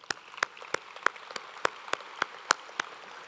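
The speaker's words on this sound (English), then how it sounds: "Let's give them one more round of applause." Sparse applause at a business summit: a few distinct, evenly spaced claps ring out one after another over a faint background of softer clapping.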